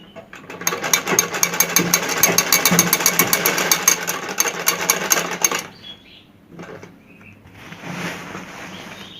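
Sewing machine stitching the waistband band onto a lehenga, a rapid steady run of needle strokes for about five seconds, then stopping, followed by a few quieter handling and mechanical sounds.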